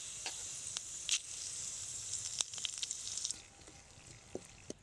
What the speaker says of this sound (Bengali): ফোড়নে দিচ্ছি লঙ্কা, এলাচ, তেজপাতা ও সাদা জিরে।